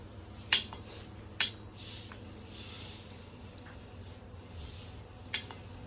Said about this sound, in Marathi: मी उलतण्यानं कट करायला लागले तर आता ह्याला मी अशा तिरक्या पण कट करून घेणार आहे